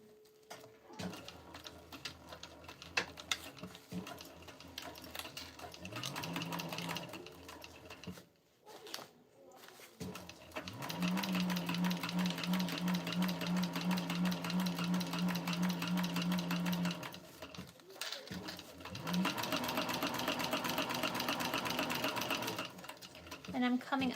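A sewing machine stitches a tote bag seam with a 3/8 inch seam allowance in quick, steady mechanical bursts with short pauses, including brief back-stitching, close by while someone talks over it.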